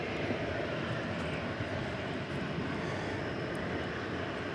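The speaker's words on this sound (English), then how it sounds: "There you see a Delta Flight 1276. It's a Airbus A320-200. It's on its way to Minneapolis, St. Paul." A Delta Airbus A320-200 at DFW Airport gives off a steady, loud engine roar with broad rumble that holds constant throughout.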